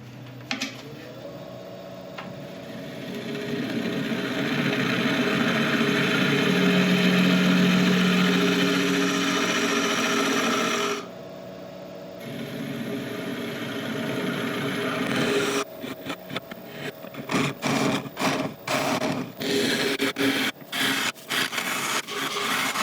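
An elm natural edge burl bowl spins on a lathe as the tool cuts, a steady motor drone with rough scraping that swells and eases, stops briefly, then gives way to irregular tapping and knocking in the final seconds.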